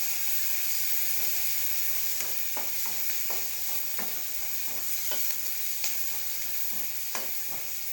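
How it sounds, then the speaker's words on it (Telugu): Thinly sliced onions fry in a pan of oil until golden, giving a steady, close sizzle and hiss. Scattered light scrapes and taps from stirring sound throughout, with no talk. "సన్నగా తరిగి పెట్టుకున్న ఉల్లిపాయలు, ఇవి గోల్డెన్ కలర్ వచ్చేదాకా ఫ్రై చేద్దాం."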